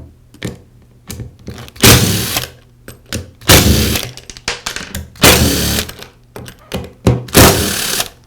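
A power screwdriver backs out screws from the motor housing of a Porter Cable sander, several loud whirring bursts of about a second each separated by short pauses, with clicks and knocks between them, close by.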